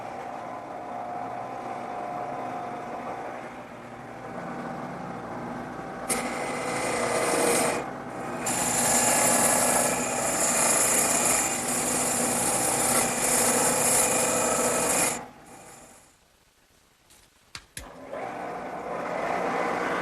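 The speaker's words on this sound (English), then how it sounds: "I'm going to speed up the lathe a little bit and make the final cuts" Wood lathe sped up to make final cuts on a drop-leaf table leg, a steady motor whir with loud scraping cutting noise that stops abruptly, then resumes.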